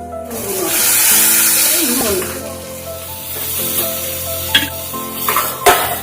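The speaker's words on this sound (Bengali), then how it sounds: "বেগুন আমার ভাজা হয়ে গিয়েছে" Steady sizzling of eggplant frying in hot oil, with occasional stirring clinks and a faint voice in the background.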